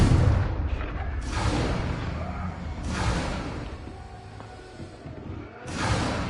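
An exploding Confringo curse cast in Hogwarts Legacy bursts out in several loud, broad blasts and whooshes, spaced a second or two apart over rumbling combat noise.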